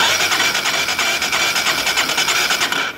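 A Honda CB 300 motorcycle engine with the cylinder head under a crack test is cranked over briefly on the starter, a fast rapid whirring churn lasting under three seconds before stopping abruptly.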